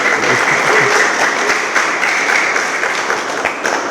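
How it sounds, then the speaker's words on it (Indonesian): A church congregation bursts into brisk, loud applause during a worship service, a dense wash of many hands clapping close by for about four seconds with a few sharper individual claps standing out. "Kasih tepuk tangan buat Tuhan."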